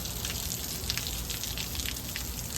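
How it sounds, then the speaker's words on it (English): Desert rain falls in Las Vegas, a steady dense patter and hiss of drops with scattered brighter splashes, continuous and moderately loud with no voices. "But we got some nice rain right now."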